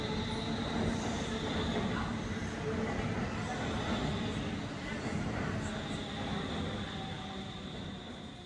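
Subway train ride in Stockholm: a steady, loud rumble of the carriage rolling along the rails, with a continuous roar and faint squeals throughout, heard from inside the moving train.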